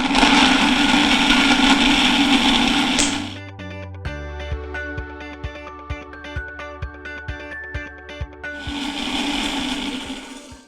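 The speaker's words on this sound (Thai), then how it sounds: "ก็ปิดฝาแล้วปั่นเลยครับ" A kitchen blender whirs loudly as it purees a Thai seafood dipping sauce with fish sauce and coriander, its steady roar stopping for several seconds of rhythmic clicking and tapping before the motor roars back in.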